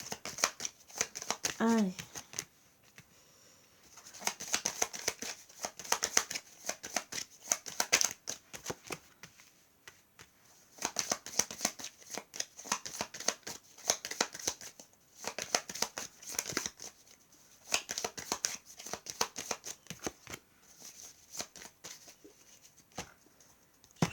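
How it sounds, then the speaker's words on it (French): Playing cards shuffled and drawn for a card reading, a steady run of quick papery riffles and snaps close up, with someone speaking briefly at the start. "Je tire quelques cartes"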